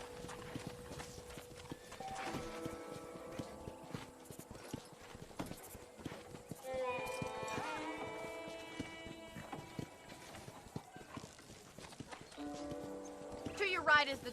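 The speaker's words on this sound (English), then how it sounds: "Okay, let's see if you can still ride a horse." Horse hoofbeats from Red Dead Redemption on PS3, rhythmic clip-clop of riding mixed with game music and a neigh, while people talk over the gameplay.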